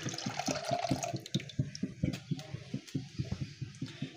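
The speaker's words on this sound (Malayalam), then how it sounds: "അതിൻ്റെ അകത്തേക്ക് നമ്മുടെ വാട്ടർമെലൻ്റെ ജ്യൂസ് അങ്ങ് ഇട്ട് കൊടുക്കാം." Watermelon juice is poured into a pan for a pudding, making a close, continuous watery splashing with quick, rhythmic glugging pulses and no talking.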